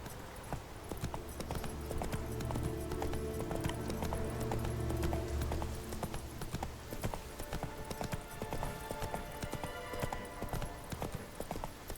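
Roach, the horse in The Witcher 3, gallops with a continuous rhythmic clip-clop of hooves under game music, close and steady throughout.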